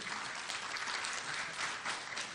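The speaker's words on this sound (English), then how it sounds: "Yes, please clap." Steady, dense audience applause fills a debate hall, a continuous wash of clapping from a crowd with no voices over it.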